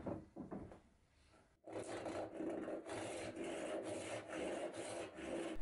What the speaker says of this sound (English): I set to work sawing the other piece in half along the grain.